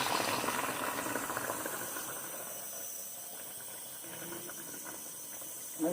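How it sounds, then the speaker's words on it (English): Water pours into a cooking pot over meat for a one-pot pot roast, a bright hissing splash that is strongest at first and then settles into a softer steady trickle, close and without speech. "I'm just going to add some water in."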